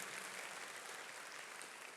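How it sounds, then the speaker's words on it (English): Applause from a leadership conference audience for the organising team, an even, distant-sounding wash of many hands clapping, faint and steady before tapering slightly. "Can we give a round of applause to the Hope Fellowship team for putting this on?"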